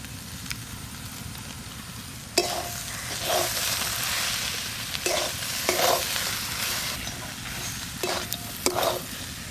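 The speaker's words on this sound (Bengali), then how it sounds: "রাখা আলু আর মোচা দিয়ে মশলার সঙ্গে ভালো করে মিশিয়ে নিয়েছি" Boiled potato and banana flower are stirred and mashed with spices, green chilli and fried peanuts in a pan, giving soft continuous scraping and sizzling with several sharper spoon clacks, close and without talk.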